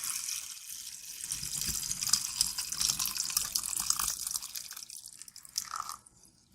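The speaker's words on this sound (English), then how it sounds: "We're going to go ahead and sieve it out." Potato water for sourdough being poured through a sieve: a steady, fairly quiet trickling and splashing stream that thins out and tapers off near the end.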